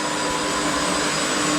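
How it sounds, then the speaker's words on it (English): A heavy-duty washer extractor laundry machine with aluminum pulleys runs in spin mode, giving a steady, loud, broadband whirring roar with a constant hum, no voices. "Now the machine is going to spin mode."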